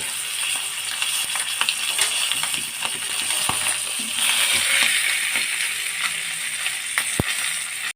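A fish head sizzling as it fries in a pan, a steady close hiss with occasional small pops and clinks throughout.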